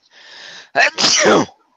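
A single close, loud sneeze: a breathy inhale, then a sharp explosive burst trailing off into air, with no voices.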